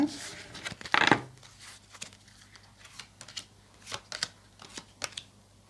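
Tarot and Lenormand cards being shuffled by hand, a burst of riffling early on and then a series of soft, uneven flicks and taps, close by, with a quiet voice in the background.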